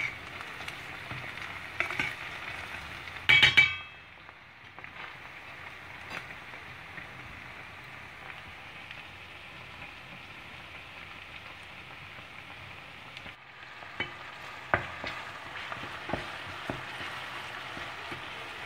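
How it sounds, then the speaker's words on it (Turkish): Chopped onions sizzling gently in a pan as tomato paste is added, a brief loud clatter near the start, then a steady soft frying hiss with scattered light pops, close and without talk. "Şimdi birazcık kavrulan soğanımın içine ben salça ilave edeceğim."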